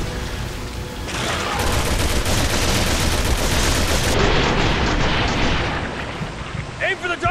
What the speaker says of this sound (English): Eat my assault rifle